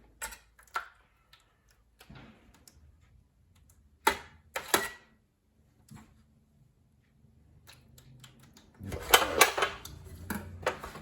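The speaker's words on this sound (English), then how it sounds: "That's a noisy pan." A metal pan clanks and scrapes on a kitchen counter while tomato sauce is spread for eggplant parmigiana, a few sharp knocks spaced apart, then a louder rattling clatter near the end, close and otherwise quiet.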